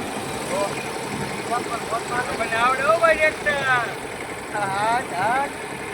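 A tractor engine idles with a steady low-mid rumble all the way through, while voices talk over it in bursts.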